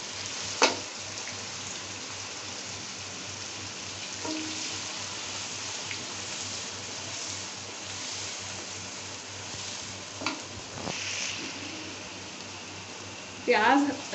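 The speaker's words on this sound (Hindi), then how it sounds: "अब मैं ये प्याज इसमें डाल दूँ।" Finely chopped onions frying in hot oil in a kadai for daal maash with qeema, giving an even, soft crackling sizzle throughout with a few brief sharper pops and faint background voice sounds.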